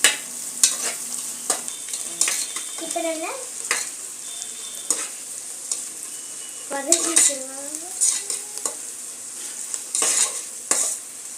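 Green chilies and biryani ingredients for chicken biryani sauté in a hot pan, a steady sizzle under repeated scrapes and stirs of a spoon against the metal, close and moderately loud with no talking.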